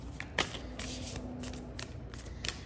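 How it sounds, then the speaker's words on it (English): An oracle card deck (Amenti Oracle Featherheart) being shuffled by hand, with soft repeated riffling and papery flicks close up, quiet and alone, no talk. "Let me just quickly shuffle."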